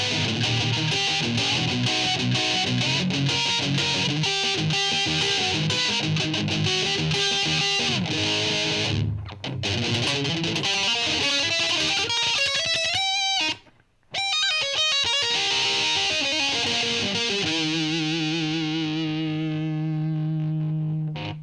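Electric guitar played through a Rowin LEF-305 distortion pedal set to full distortion with tone and volume at mid, a loud, saturated, sustained tone with a few brief dropouts and a ringing fade at the end, no talking.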